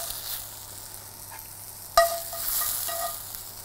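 Mushrooms go into a hot pan for garlic mushrooms, giving a quiet, steady sizzle with a sharp clatter of a pan or utensil partway through, then a slightly louder frying hiss.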